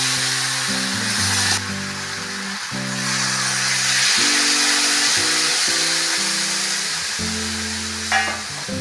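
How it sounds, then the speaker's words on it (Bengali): Potatoes fry with spices in a pan, giving a loud continuous sizzle with scraping stirs and occasional bursts of steam, close up and without talk. "আলুটা ভালো করে মশলার সঙ্গে কষে নিলাম।"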